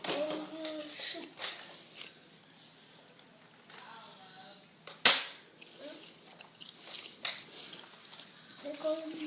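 A Nerf lever-action toy blaster fires once, a single sharp close snap in the middle of quiet handling noises, with a child and an adult talking softly before and after.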